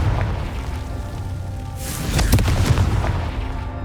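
A Confringo fire spell from the Hogwarts Legacy video game, going off as a deep booming blast with a burst near the middle, over a steady rumbling game background.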